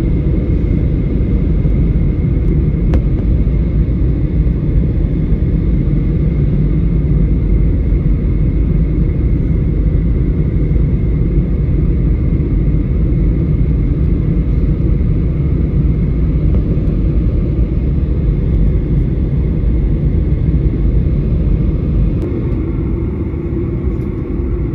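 Inside an airplane cabin on a flight of more than three hours to Minneapolis, a steady, loud low rumble and engine drone continue without a break.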